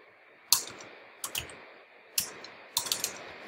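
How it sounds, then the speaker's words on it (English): Keys clack on a computer keyboard as a short command is typed, with a few sharp, isolated keystrokes and small bursts, close and fairly quiet, with no speech. "So click enter and type ps"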